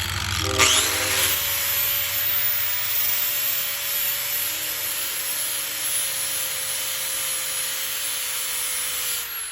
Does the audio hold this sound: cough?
no